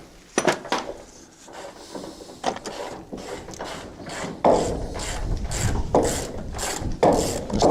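Ratchet wrench turning big bolts, giving repeated clicking ratchet bursts at an irregular rhythm, moderately loud and close, with metallic clatter between strokes and no talking.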